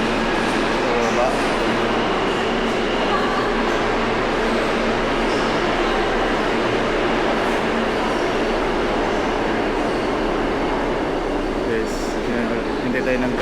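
Inside a New York subway station, a continuous rumble of trains and machinery fills the platform, steady and moderately loud throughout, with faint background voices and no clear arrival or departure.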